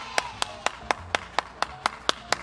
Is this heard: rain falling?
no